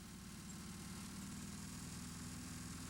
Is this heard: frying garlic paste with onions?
no